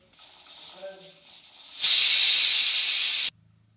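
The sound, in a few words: pressure cooker whistle releasing steam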